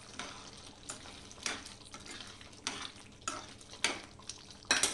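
Hotel-style aloo kurma cooking in a pot, a soft steady bubbling and sizzle broken by intermittent scraping and clinking stirs against the pot every second or so.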